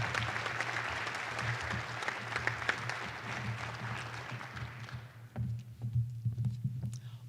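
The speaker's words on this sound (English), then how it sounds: "Give her a big round of applause right now." Campus audience applauding to welcome a speaker at a Lindenwood athletics event, full crowd clapping that thins and fades toward the end over a steady low hum.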